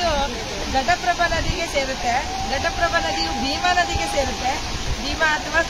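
Broad rushing of the flowing Hiranyakeshi River at Amboli fills the scene continuously, with a person talking over it throughout.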